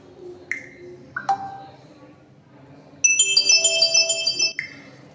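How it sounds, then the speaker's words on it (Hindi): Notification tones preview on a Tecno Pova 5G phone: a few short separate pings and chimes, then a brighter multi-note melodic jingle, all crisp and close over faint background. "आपको यहाँ पर नोटिफिकेशन साउंड आप अपने मनपसंद की सिलेक्ट कर सकते हो"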